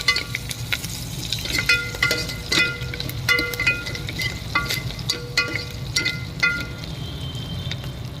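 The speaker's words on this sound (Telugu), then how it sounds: "తాలింపు అయితే వేగిందండి బాగా." Dried red chillies and curry leaves fry in hot oil as a tempering for an Andhra-style gongura and raw prawn curry, giving a steady close sizzle broken by frequent sharp clicks and scrapes of stirring, with no talking.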